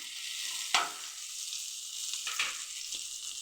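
Semiya and rava fry in a pan with a soft, continuous sizzle at low volume, broken by a few sharp scrapes and clicks of a spoon stirring close by.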